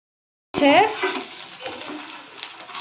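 Fish frying in a pan sizzles in a steady, close hiss that starts abruptly, with a brief voice-like sound near the start.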